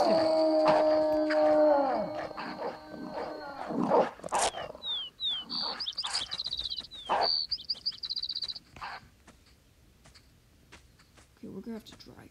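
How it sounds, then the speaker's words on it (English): Wolves in the video game Ultimate Wolf Simulator 2 let out long howls, strong and tonal at the start, then fade into thinner cries and scattered game sounds, with a distant howl returning near the end. "I heard other howls. He was just howling."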